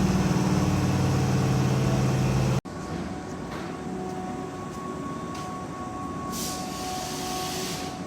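Train at a station, with a loud low rumble that cuts off abruptly, followed by steady quieter mechanical hum and rail noise as the train sits and pulls away, with brief faint hissing bursts.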